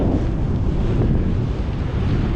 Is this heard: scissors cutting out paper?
no